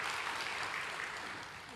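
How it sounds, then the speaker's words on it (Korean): A church congregation claps for the worship team after a service, a steady, even wash of applause filling the room for under two seconds and tapering slightly at the end. "우리 한번 찬양팀 위해서 한번 큰 박수 한번 해볼까요?"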